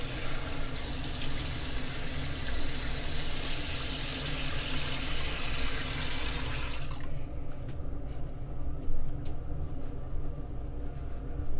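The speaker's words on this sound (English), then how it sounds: "Let me rinse this off" Tap water runs steadily into a sink as something is rinsed, a broad even rush that cuts off about two-thirds of the way through, leaving a low background hum.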